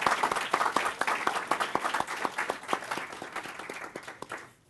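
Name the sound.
applause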